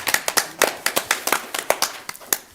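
Brief clapping from an audience at a school board meeting, a small group of hands patting in a fairly even rhythm for a couple of seconds, moderately close and not very loud.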